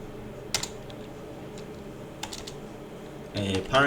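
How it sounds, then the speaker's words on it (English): Keys tapped on a computer keyboard in a few scattered clicks, then a denser burst of fast typing near the end, close and fairly quiet over a steady low hum. "maybe I type somewhere here"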